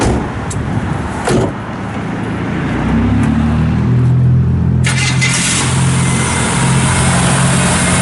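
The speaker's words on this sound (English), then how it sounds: "Fires right up, runs perfect." A 1969 Pontiac Firebird engine cranks and fires up, then settles into a loud, steady idle close by.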